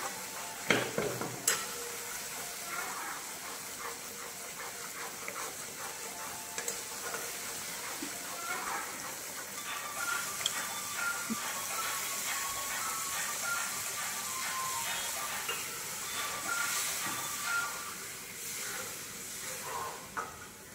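Water hits a pan of oily fried masala for a pointed gourd gravy, raising a loud sizzle and steamy hiss that settles into continuous bubbling with repeated spoon-stirring scrapes over about twenty seconds.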